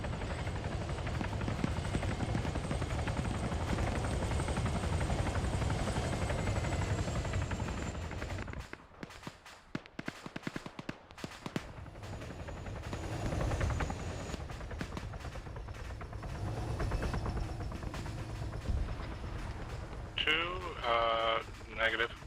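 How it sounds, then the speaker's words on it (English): Military helicopter in a tactical shooter game, a steady rotor drone that cuts out midway and then returns, with radio chatter and talk over it and a burst of clicks near the end. "Can you keep your eye on a helicopter north? It just landed"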